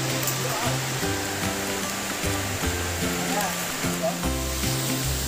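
A stream flows through the Sahyadri hills, its steady broadband rush running close and constant beneath a voice and other tonal sound throughout.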